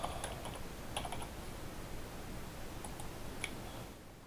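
Someone types on a computer keyboard while entering data into a database form, producing a quiet, steady patter of soft keystrokes with a few sharper clicks, close up and with no speech.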